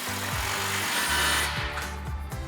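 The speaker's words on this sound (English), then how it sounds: "we're going to grab our 15mm socket on our impact. And we'll get our driver's side outlet clamp tight" An impact wrench with a 15mm socket tightens an exhaust clamp on a gas GMC Sierra 2500 Flowmaster Outlaw dual exhaust, giving close, loud bursts of rattling hammering with pitch shifts as the motor spins up and down.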